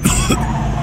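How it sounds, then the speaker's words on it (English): An injured man with hurt ribs in the video game Mafia II gives a short, harsh cough, two quick close bursts, loud and alone. "Every time I cough, it feels like I'm being stabbed."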